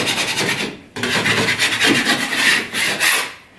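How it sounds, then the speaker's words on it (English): A joint knife scrapes loose, flaking edges around a hole in a wall being patched, a steady close rasping scrape with a brief pause near the start, then continuous strokes. "or a joint knife, clean off any of these edges, make sure there's nothing protruding like we've got here"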